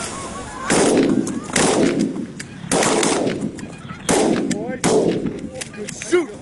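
Five loud shotgun blasts fired while duck hunting, spaced about a second apart, each with a booming echo trailing off outdoors; honking calls in the background.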